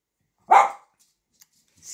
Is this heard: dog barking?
yes